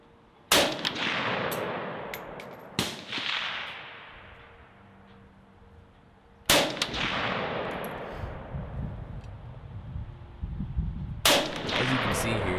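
Four loud, sharp SKS rifle shots in Escape from Tarkov, widely spaced, each with a long ringing echo tail that fades slowly, set against a low rumbling outdoor ambience.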